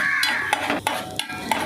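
Spices being stirred and fried in a small pan, with steady close sizzling broken by several sharp scraping strokes of the spoon against the pan.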